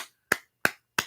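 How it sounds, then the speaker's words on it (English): Hand clapping heard as three sharp, close claps at an even, deliberate pace against silence. "I just clapped in your face like this."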